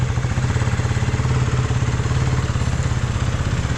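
A motorcycle engine runs steadily close by, a low pulsing putter with a fast regular rhythm and no voices.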